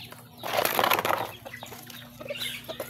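Chickens bustle and flap their wings close by during feeding at a household yard, with a burst of wing flapping early on and soft clucking afterward.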